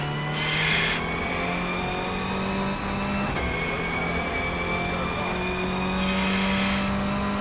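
A production race car on Lime Rock Park in the iRacing sim holds a steady, droning engine note with a few brief shifts in pitch, continuous and fairly loud.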